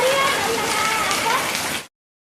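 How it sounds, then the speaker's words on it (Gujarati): Heavy rain pours down steadily during a storm, a dense continuous hiss loud and close, with a voice talking over it before the sound cuts off abruptly. "અડધા કલાકથી ફૂલ વરસાદ છે. ચોમાસા કરતાં પણ જબરજસ્ત વરસાદ ચાલુ છે."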